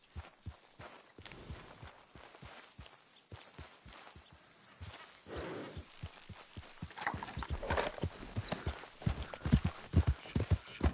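Horse hooves clip-clop at a walking pace while riding in Red Dead Redemption 2, evenly spaced thuds that grow louder and busier toward the end over faint ambient game sound.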